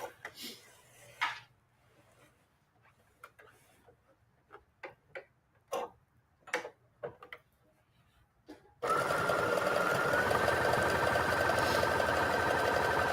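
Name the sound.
sewing machine stitching fabric and denim patchwork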